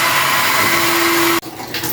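A pet blower runs loud and steady while drying cats after a bath, a continuous whirring roar with a sustained tone that cuts out abruptly near the end, then resumes more faintly.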